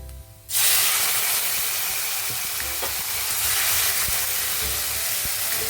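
Tomatoes drop into a pan of hot fried garlic, and a sudden loud burst of sizzling follows and holds as a steady, close frying hiss, with a few light scrapes of stirring.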